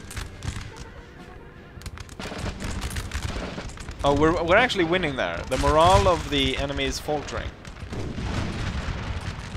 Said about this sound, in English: Heavy gunfire is going through.